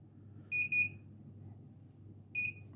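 Access control keypad giving short electronic beeps while a fingerprint is programmed: a quick double beep, a pause, then one more single beep, clear and close against a quiet room.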